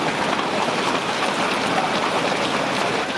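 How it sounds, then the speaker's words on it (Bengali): Heavy rain pours down in Haripur, Sylhet, a dense, steady hiss that stays loud and unbroken throughout, with no voices. "অনেক বৃষ্টি হচ্ছে সিলেটে,"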